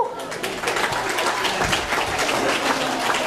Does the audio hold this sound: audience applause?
yes